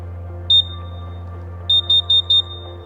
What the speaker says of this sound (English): You should test your carbon monoxide alarm every month by pressing the test button.